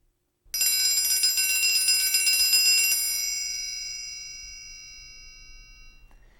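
A triangle struck in the fastest possible roll rings out loud and bright as a shimmering, rapid tremolo of bell-like tones for about two and a half seconds. The roll then stops and the metal rings on, slowly fading alone.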